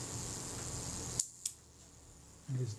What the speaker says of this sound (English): There's the shutter.